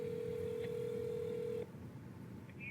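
A telephone dial tone or ringback sounds as a steady single tone for about a second and a half, then cuts off into a quiet line with faint hiss.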